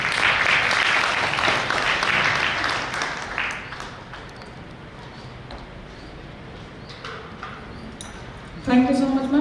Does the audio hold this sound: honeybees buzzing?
no